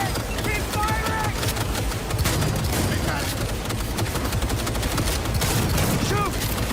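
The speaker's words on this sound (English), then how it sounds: "Taking fire! He's hit! Keep firing!" Sustained gunfire in Cyberpunk 2077 during a firefight against Arasaka guards, dense rapid bursts running throughout at steady loudness, with shouted voices over the shooting.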